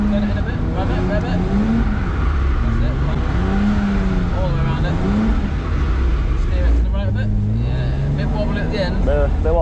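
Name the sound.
BMW E46 car drifting around a cone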